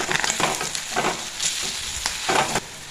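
Curry leaves dropped into hot oil for a beef dish crackle and sizzle in sharp bursts, loud and close, with spattering pops and no talking.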